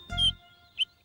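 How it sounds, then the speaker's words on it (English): A baby bird in a children's cartoon gives two short, high cheeps about half a second apart, the first over a brief low thump, both clear against near silence. "It was the cheeping of a baby bird."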